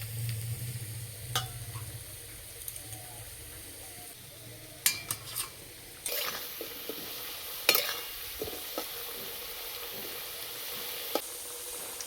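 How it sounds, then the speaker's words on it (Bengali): Potatoes frying in hot oil in a pan, a steady soft sizzle with occasional stirring clicks and scrapes, close and fairly quiet with no talking. "আলু ঠিক এইরকম করে ভেজে নিতে হবে।"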